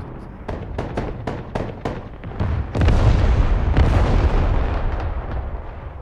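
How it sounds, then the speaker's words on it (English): Artillery fire in the Broken Arrow war game: a quick series of about eight sharp booming shots, then a heavy sustained barrage of loud rumbling explosions that slowly fades. "Oh, artillery fire, baby."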